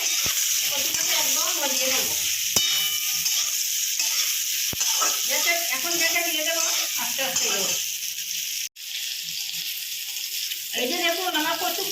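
Potato and taro frying slowly over a low flame with salt and turmeric in a home kitchen, giving a steady close sizzle with occasional stirring clicks while someone talks over much of it.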